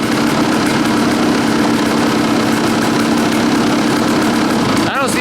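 Kawasaki dirt bike engine idling at a close, loud, steady rumble with no letup, and a brief sweeping change near the end.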